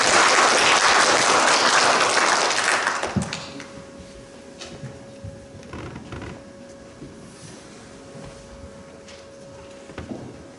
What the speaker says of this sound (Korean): 큰 박수로 맞이 부탁드리겠습니다.